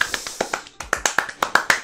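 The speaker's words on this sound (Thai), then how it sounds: "ปรบมือ" About a dozen sharp hand claps from a single person, close and fairly quiet, in a quick, slightly uneven rhythm lasting under two seconds.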